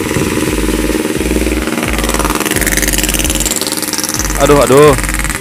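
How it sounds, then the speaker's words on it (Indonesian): A motorcycle runs loud and close on a village road, its engine droning with a rhythmic low pulsing throughout while someone talks over it and briefly raises his voice. "Aduh, suara motor, suara saya kalah sama suara motor ya."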